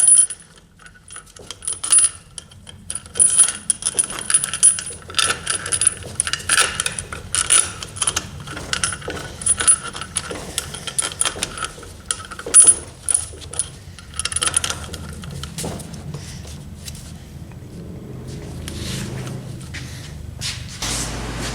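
Metal bolts threaded by hand into a Ford 4R100 automatic transmission, giving a run of small clicking, ratcheting and clinking mechanical sounds at close range, irregular and busy through most of the stretch, then settling into a softer rumble.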